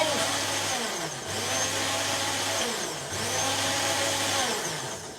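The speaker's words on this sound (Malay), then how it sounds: "Yang ni boleh blender sampai halus." Kitchen blender whirring as it purees ingredients for a Malaysian sour fish stew, running loud and steady in three long pulses with brief pauses between them, close by and with no talk.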